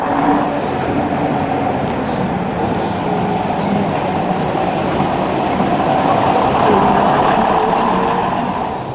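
AEC RF503, a classic London Transport bus, running in the AEC Centenary Parade past the Walthamstow Pump House Museum, with a steady, loud engine rumble and drone held throughout, no voices.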